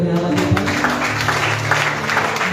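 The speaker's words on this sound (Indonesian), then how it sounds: "Beri tepuk tangan bagi Allah kita." Church congregation at a GBI service clapping together, a steady dense burst of applause with music underneath, loud and close throughout.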